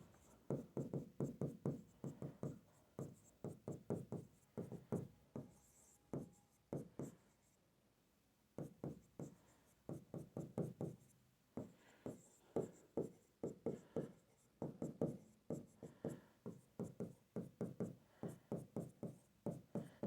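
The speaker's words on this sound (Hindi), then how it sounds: "तब तक मैं कुछ अतिरिक्त जानकारी यहां पे लिख देता हूं।" Chalk or marker writing on a classroom board: rapid rhythmic strokes in quick bursts, with a short pause midway, faint and close.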